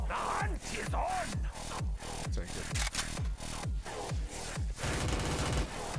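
Rapid automatic fire from an AK rifle in a video game, loud sustained bursts of shots with short pauses between volleys, dense and close throughout.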